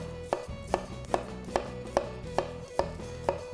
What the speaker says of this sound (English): So when you're dicing your onion